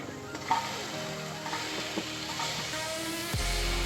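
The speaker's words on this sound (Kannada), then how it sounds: "ಈರುಳ್ಳಿ ಹುರ್ಕೋಬೇಕು." Steady sizzling of onions frying in a pan, with a few stirring scrapes and clatters, close by and fairly loud.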